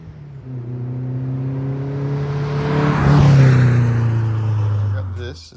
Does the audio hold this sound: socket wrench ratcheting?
no